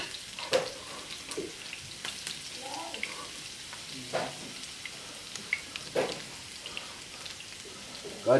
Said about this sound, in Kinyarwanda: Tubanje twakaranga igitunguru.